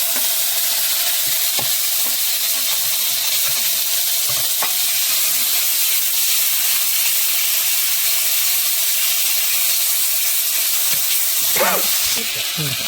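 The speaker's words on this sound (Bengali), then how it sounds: "ভালো করে নাড়িয়ে চাড়িয়ে এই যে শিলে বাটা মশলাটা দিয়ে নিতে হবে" Stone-ground spice paste sizzles steadily in hot oil in a pan while being stirred, a loud continuous fry hiss with occasional scraping knocks, no talk.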